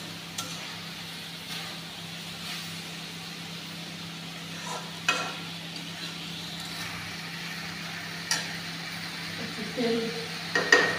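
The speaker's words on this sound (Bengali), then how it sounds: "ভাজা ভাজা হয়ে যাচ্ছে" Spice paste fries in oil in a pan for a Bengali plantain and potato curry, a low steady sizzle with occasional scraping stirs, under intermittent talk.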